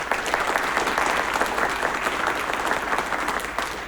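A lecture audience at a Darwin Day event breaks into applause, a full steady roll of clapping from a crowded room, loud and even for a few seconds.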